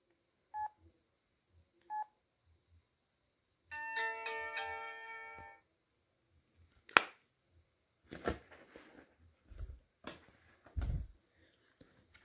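Startup on a Samsung SCH-U540 Verizon flip phone: two short key beeps, then a bright melodic chime of stacked tones lasting about two seconds, followed by faint clicks and handling noises.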